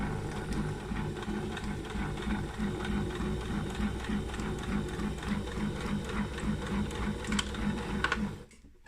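A sewing machine runs steadily, stitching straight along a quilt's binding edge at a quarter inch while finishing a mitred corner, its even rapid needle rhythm loud and close, stopping abruptly near the end.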